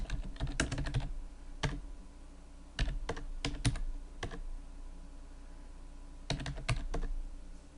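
Quick bursts of keystrokes on a computer keyboard as a number is entered, clicking in short clusters separated by pauses, close and clear over faint room hum with no talking.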